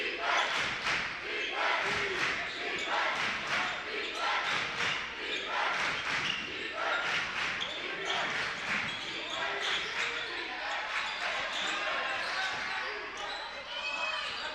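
Cougar home crowd at a basketball game chanting defense in loud rhythmic waves that carry on throughout, with the dense roar of a packed gym and occasional sharp thuds mixed beneath.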